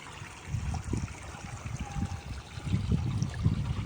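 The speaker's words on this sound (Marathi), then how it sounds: "बघ त्याच्या मागून पाणी चालू आहे लगेच" Irrigation water flows into a wheat field just given urea, with a soft, continuous trickling and gurgling that rises and falls in small surges, close to the microphone and without any talking.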